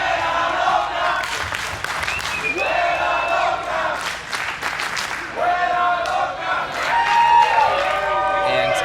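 Wrestling crowd cheering and whooping for Chika Tormenta in a match against Taya, loud and sustained throughout, with shouts rising in waves and voices mixed in.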